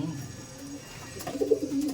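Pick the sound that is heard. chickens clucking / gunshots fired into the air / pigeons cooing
pigeons cooing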